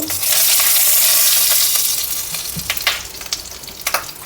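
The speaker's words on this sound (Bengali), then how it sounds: "এবার ওই তেলে আমি কিছুটা ফোড়ন দেবো দুটো কাঁচা লঙ্কা মাঝখান দিয়ে কেটে দিয়েছি আর সামান্য একটু কালো জিরে একটু ভেজে নেব" Green chillies and nigella seeds hit hot mustard oil with a loud, bright sizzle that surges at once and then settles. Sharper crackles and spits pop out near the end.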